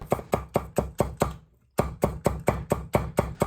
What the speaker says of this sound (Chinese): 少许洋葱切成细丝，胡萝卜同样切成细丝